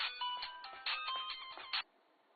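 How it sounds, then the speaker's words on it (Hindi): A mobile phone ringtone plays a bright electronic melody in short repeated bursts for about two seconds, then cuts off, leaving near silence. "तुम्हारा फोन बज रहा है"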